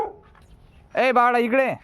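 A village dog barks in a quick run of three or four loud, close yelps after a voice calls out to a child nearby.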